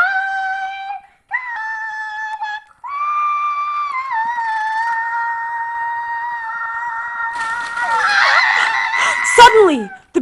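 Rooster crowing in a retelling of the Chanticleer fable, a long stretched cock-a-doodle-doo preceded by short clipped notes, loud and close, ending in a rough squawk; the crow is probably imitated by a voice.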